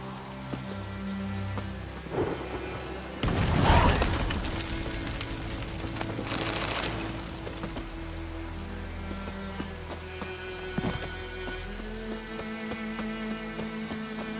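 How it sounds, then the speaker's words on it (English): Steady rain patters on surfaces in The Witcher 3. Two loud thunder crashes break through a few seconds apart, then the downpour continues with scattered drips and knocks. "A storm, damn it."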